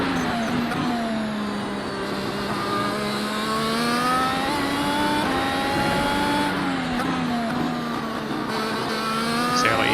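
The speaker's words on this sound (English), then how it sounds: "let's just watch this car dancing between the balls for a bit" Race car engine at the Long Beach street circuit, a steady loud in-car drone with harmonic pitch wavering up and down as the driver modulates throttle through a wiggly section, continuous for the whole stretch.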